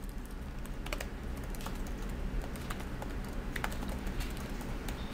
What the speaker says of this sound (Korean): 제가 타이핑을 칩니다